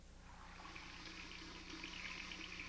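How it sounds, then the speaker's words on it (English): Water runs steadily from a faucet into a sink, a constant broadband hiss and splash that holds at an even level throughout, close and alone. "And he turned on the water faucet"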